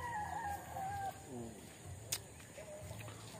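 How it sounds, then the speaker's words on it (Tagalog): Chickens cluck and crow nearby in short, wavering calls over a low outdoor murmur, with a brief rustle partway through. "Yung mga manok nakagala-gala."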